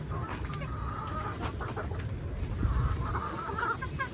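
Chickens cluck softly amid a steady, noisy household background, with faint scattered calls that never stand out strongly.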